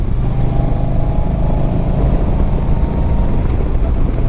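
Riding a 2009 Yamaha 950 Tourer motorcycle, with steady low engine rumble and heavy wind buffeting throughout, loud and continuous with no break.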